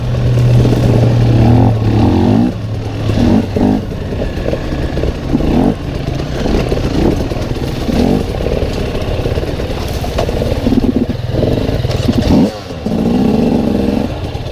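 A dirt motorcycle in first gear climbs over rocky terrain in Spain, its engine loud and close throughout, revving and bogging unevenly as it labors over the obstacles.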